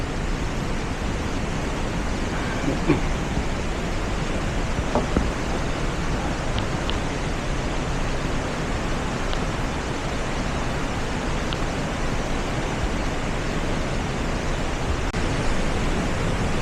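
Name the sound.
roar of Haew Narok waterfall, Khao Yai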